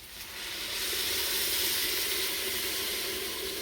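Water from a kettle poured into a hot pan of lasagne sauce with stirred-in paste, giving a steady loud hiss and sizzle of steam that rises quickly and holds for several seconds with no talking.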